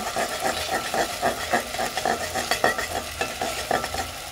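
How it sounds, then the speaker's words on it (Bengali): Beaten egg being stirred into vegetables in a hot pan: a steady sizzle under a string of rhythmic spatula scrapes and taps, close and moderately loud. "ডিম আমি এর মধ্যে মিশিয়ে নেব।"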